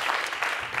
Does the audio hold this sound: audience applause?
yes